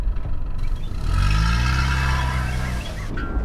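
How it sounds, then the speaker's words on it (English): A car engine cranks and catches, rising into a revving run for a couple of seconds before settling, heard at moderate distance with clattering around it and no talk. "The car needs time to start up again."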